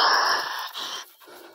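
A hunting dog pants heavily and close up after an armadillo hunt in dry scrubland, a rapid rhythmic breathing lasting under two seconds.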